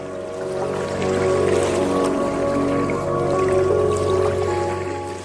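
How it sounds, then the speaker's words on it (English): A fast-running stream in the wild Alaskan north rushes and gurgles continuously at fairly close range, with watery bubbling over a low, steady wash. Sustained musical tones run underneath. "The sound of a fast-running stream is a challenge it cannot ignore."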